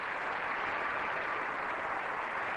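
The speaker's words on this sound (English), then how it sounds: "a big round of applause for the hometown girl, Kathleen Schmeltz" Steady, dense applause from an arena audience at a Stars On Ice figure skating show, broad and continuous throughout without any voices.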